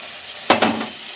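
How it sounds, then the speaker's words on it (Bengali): Spice paste hits hot oil with tomatoes in a pan, giving a short sharp double sizzle and scrape of stirring, close and brief with no talk. "এবার আমি মশলা দিয়ে দেবো।"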